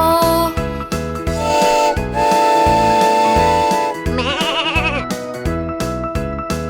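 A bright, synthetic goat bleat in a Thai children's farm song, with a wavering tremolo cry over bouncy music.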